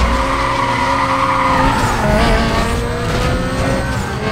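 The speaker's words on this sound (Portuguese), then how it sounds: "Olha o ronco do motor da Lamborghini, velho" High-revving Lamborghini supercar engine from Need for Speed: Most Wanted roars loudly and steadily, with shifting engine harmonics, tire squeal and skidding mixed in during a two-lap race.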